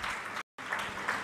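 Applause from a church congregation during an anniversary service, a steady dense patter of many hands filling the space, briefly cut off by a short silent gap before resuming at the same level.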